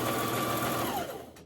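A sewing machine runs steadily while stitching fabric for a mask hood, its fast continuous whirring close and loud, then slowing and fading near the end.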